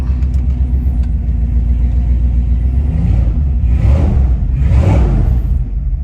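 A rusted Jeep engine runs loud and close with a steady low rumble, then revs up in two swelling bursts before dying back down, with no voices.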